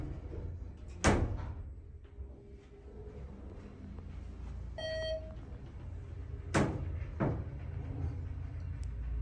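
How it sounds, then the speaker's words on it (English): A ThyssenKrupp Synergy restaurant elevator's noisy door operator drives the doors open and closed, with sharp clunks and a rumbling slide heard close inside the cab, plus a brief electronic chime in the middle. "Noisy door operator, that's for sure."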